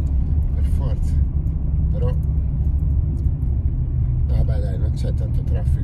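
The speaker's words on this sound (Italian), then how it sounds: "C'è tanto traffico" Dense road traffic in Berlin, a steady low rumble of cars and buses running throughout, with occasional brake squeals and intermittent talk over it.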